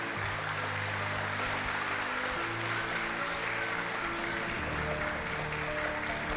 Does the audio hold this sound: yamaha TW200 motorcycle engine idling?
no